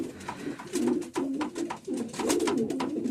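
Domestic breeding pigeons coo in repeated low, throaty phrases close by, one call following another in an uneven rhythm, with no talking.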